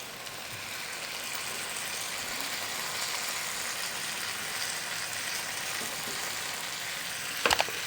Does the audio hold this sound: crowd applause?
no